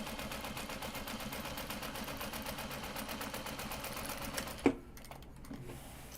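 A sewing machine stitches logo branding in a fast, even, rapid mechanical chatter that runs steadily, then stops abruptly with a sharp click, leaving a quiet pause.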